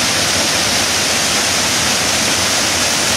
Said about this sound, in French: Regardez cette cascade, c'est jolie.